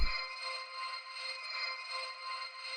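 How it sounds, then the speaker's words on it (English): A sustained, shimmering synth pad made from a reversed reverb tail, with steady tonal layers, swelling gently and panned to the right, looping without a clear attack. "I took that again and I reversed it, panned it to the right, and so it sounds like this."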